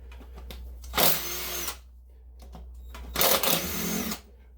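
Two bursts of a power tool spin out valve cover bolts on the passenger side of a 1995 Camaro engine, each whirring for about a second, with quieter clicks and handling sounds between them.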